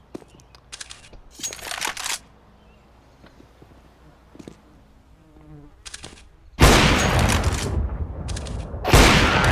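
Gunfire in Counter-Strike: Global Offensive, a Glock pistol round: scattered sharp shots early on, then two long loud bursts of rapid fire near the end, with quieter game noise in between.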